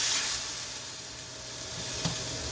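London broil beef sears in a hot pan with avocado oil, giving a steady, close hiss and sizzle that dips slightly midway and swells again, with one small pop near the end.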